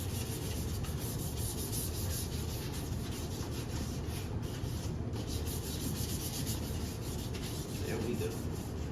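Sandpaper is rubbed by hand across the lip of a lowered 8th-gen Honda Accord bumper, a close, constant dry scuffing hiss with a fine gritty texture and short strokes blending together.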